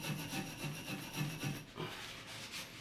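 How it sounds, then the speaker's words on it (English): A brass brush scrubs a Delta shower valve part in quick rhythmic back-and-forth strokes, close and gritty, about a half dozen strokes before the rhythm loosens. "I'm also going to get a brass brush, just give this a little bit of a cleaning"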